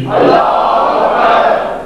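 A crowd at a Muharram majlis gathering in a mosque and imambargah in Qasur shouts a slogan in unison, answering a takbir call with one loud, sustained roar of many voices that lasts nearly two seconds.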